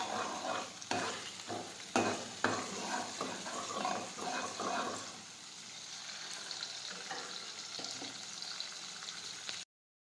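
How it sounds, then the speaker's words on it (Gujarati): Dal being stirred in a pot, a spoon scraping and swirling through the thick mixture with a soft bubbling sizzle, busy for the first few seconds then settling into a quieter steady simmer. "હવે આ રીતે આપણે ફેરવશું."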